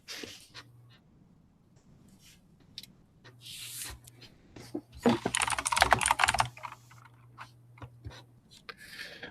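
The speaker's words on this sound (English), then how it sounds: "I hear your keyboard" Rapid, uneven clicks of computer keyboard typing come through a voice call, close and fairly quiet, with a steady low hum underneath and a denser burst of keystrokes midway.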